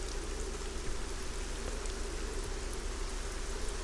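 Steady rain falling in the fantasy game ArcaniA, a continuous even hiss of drops with a low rumble beneath, constant and fairly close with no voices.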